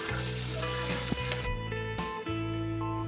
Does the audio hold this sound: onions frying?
yes